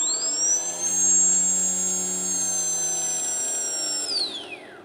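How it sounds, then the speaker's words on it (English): Brushless motor on an FPV 280 quadcopter build spinning up counterclockwise, a steady high-pitched electric whine held for several seconds before winding down at the end, close and alone with no talk. "And the last motors. So we start, press start, and should turn counterclockwise."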